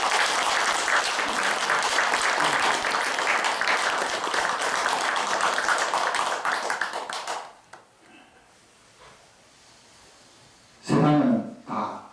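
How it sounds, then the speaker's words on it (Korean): A congregation at a Buddhist youth assembly's founding service claps together in dense, sustained applause for about seven seconds before it fades away. A short burst of speech follows near the end. "우리 가구선님과 저 청년회장님에게 큰 박수를 한번 쳐 주셔야 될 것 같습니다"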